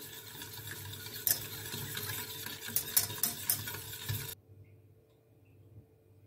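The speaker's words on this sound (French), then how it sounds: "Avec un fouet, vous mélangez bien pour que tout fonde dedans." A whisk beats milk with sugar and yeast in a bowl, giving a busy, rhythmic swishing with a few brighter clinks, then stops abruptly, leaving near silence.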